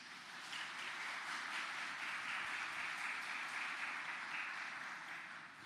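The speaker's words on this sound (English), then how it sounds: "May I invite for the recipients a round of applause" Faint, distant applause rises for award recipients at a Governor-General's Achievement Awards ceremony, an even wash of many hands that swells in, holds for several seconds and fades slightly at the end.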